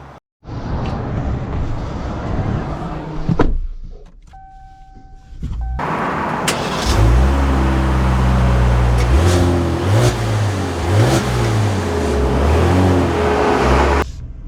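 2025 Ram 1500 Limited pickup with its new engine, heard from inside. It idles with a low rumble, then accelerates hard in rising, stepped pulls as it shifts through gears, loud and close.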